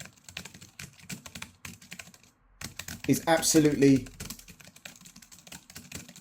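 Keys clack steadily on an Arteck 5.0 Bluetooth portable keyboard, a quick close rhythm of firm clicky presses that carries on under a person talking.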